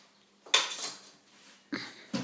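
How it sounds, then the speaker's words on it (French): Plastic cutlery clatters as it is handled for a mid-mountain hiking kit, a sharp rattling burst followed by two shorter clicks and knocks, close and alone. "je vous conseille, voilà, des couverts en plastique"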